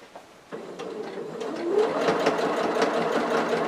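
A sewing machine stitches a tote bag pocket, starting after a brief pause and running steadily faster with a rapid mechanical needle rhythm, close and clear with no talking.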